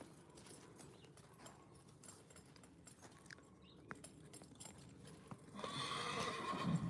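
A horse neighs loudly and close by near the end, after quieter hoof clops and chewing sounds.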